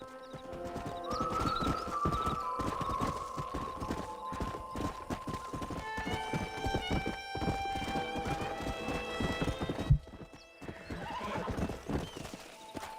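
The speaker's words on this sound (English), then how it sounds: "Você domou Kentucky Saddler. Um cavalo ágil e raro." Horse hooves clip-clop in a steady trotting rhythm as a Kentucky Saddler is ridden in the video game Red Dead Redemption, with neighs and a tonal musical score running underneath.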